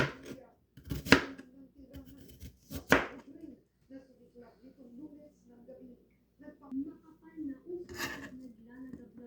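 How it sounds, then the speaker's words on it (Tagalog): A knife chops onions for a Filipino pork hamonado: a couple of sharp, close chopping strikes and lighter taps, with a person speaking throughout. "kailangan din natin ang onions. Atin din siyang gayatin."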